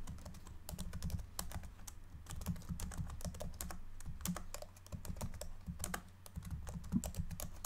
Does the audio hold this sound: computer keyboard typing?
yes